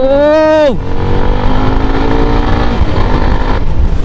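A CFMoto SR 300 motorcycle riding in second gear, its engine tone rising in pitch then dropping sharply as the revs fall, followed by a loud, steady engine drone with road and wind noise close to the microphone.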